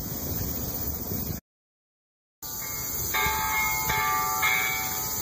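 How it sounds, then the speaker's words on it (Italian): Large peace bell at the Hiroshima memorial, hung with children's paper cranes, ringing outdoors: struck tones with a lingering ring appear in the later half over steady ambient background noise. "Alle mie spalle la campana con tutte le gru fatte dai bambini per ricordare la pace."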